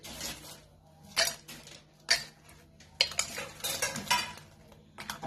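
Dahi vadas are lowered into curd sweetened with sugar and salted, with a spoon clinking against a bowl in repeated close scrapes and taps.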